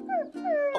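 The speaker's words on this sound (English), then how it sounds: "this is my best dog, Stormy Jane." A dog gives a short, whining howl in two rising-and-falling cries, close and fairly loud with no talk.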